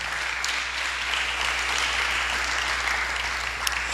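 Steady applause from a church congregation, a dense, even roar of many hands clapping that holds at a constant level for the whole stretch with no voices over it.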